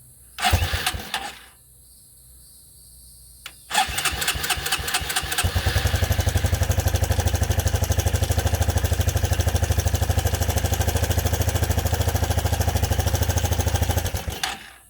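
A Suzuki LT 160 ATV engine with a carburetor being tuned sputters briefly, goes quiet, then starts and settles into a steady, loud idle that runs for about ten seconds before cutting off.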